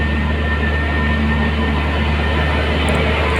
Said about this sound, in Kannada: ಮತ್ತು ಇಂತೂ ನಮ್ಮ ಟ್ರೈನ್ ಬಿಡ್ತು.